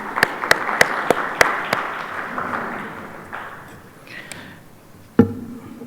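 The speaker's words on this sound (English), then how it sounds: "I request all of you to put a round of applause to all the sponsors, partners, and the supporting bodies" A handful of sharp, separate claps ring out in the first two seconds at a Dubai conference session, then thin out into room noise with a few scattered taps and one final loud knock.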